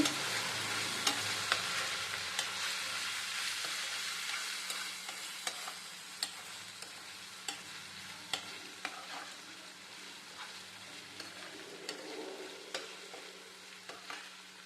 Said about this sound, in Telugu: ఇప్పుడు ఈ మసాలాలన్నీ ఒక టూ మినిట్స్ వేయించుకుందాము